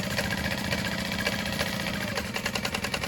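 A sewing machine runs steadily while basting and stitching a tote bag, a close continuous mechanical whir with a rapid rhythmic needle chatter that quickens slightly toward the end.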